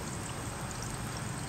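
Distilled water, about half a gallon, pours steadily into a homemade hydrogen generator built from stainless steel plates, a continuous soft splashing stream heard close and alone.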